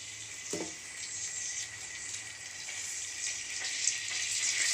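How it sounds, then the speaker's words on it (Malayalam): Coconut oil poured into a pan for tempering, giving a steady close hiss that builds slightly over a few seconds, with a soft knock near the start and no talking. "കുറച്ച് വെളിച്ചെണ്ണ ഒഴിച്ചു കൊടുക്കുക."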